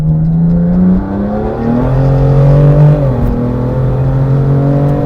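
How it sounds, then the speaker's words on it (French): A tuned car's engine revs hard and close by, its drone rising and falling in steps before settling into a steady loud hum, with no talking. "les pop, les gars, c'est une mitraillette hein, quand ils règlent les pop"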